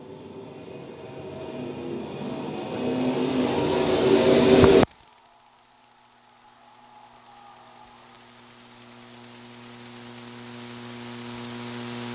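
B-Mod race cars in a heat race at Lakeside swell into a loud, rising engine roar for several seconds. The roar cuts off abruptly, leaving a faint hum that slowly grows.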